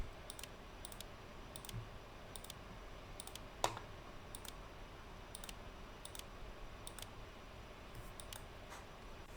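Cockpit switches flipped on a Concorde in Microsoft Flight Simulator, a series of faint, sharp clicks in small groups spread across a quiet background hum.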